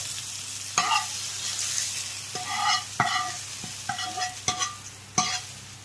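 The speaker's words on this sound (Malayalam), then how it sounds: "അപ്പോൾ നമ്മൾ ഉള്ളി കടുകും എല്ലാം കൂടെ മൂപ്പിച്ചിരിക്കുന്നു. ഇനി അത് നമുക്കിതിലേക്ക് ചേർക്കാം." A fried onion and mustard-seed tempering goes into a sizzling jackfruit curry cooked beef-curry style, a steady close sizzle broken by several sharp spoon clacks against the pan as it is stirred in, with no talking.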